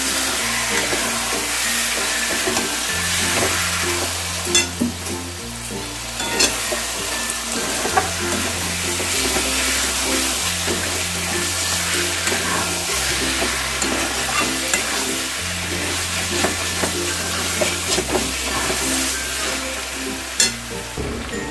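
Kadhai chicken stirred with salt and turmeric in a pan, a steady close sizzle with repeated scraping strokes of the spoon over a low hum.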